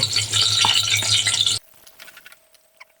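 Whole spices such as bay leaf, cinnamon and cardamom, with onion paste, frying in hot oil: a dense, loud sizzle for about a second and a half, then cutting off to faint scattered crackles and light clinks.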